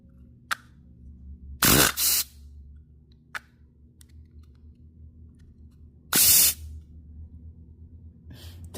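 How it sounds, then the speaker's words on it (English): An air compressor's line feeds a 3D-printed single-cylinder air engine, producing two loud hissing blasts of compressed air among a few sharp clicks, over a low steady hum. "we about to hook it up to the air compressor right now"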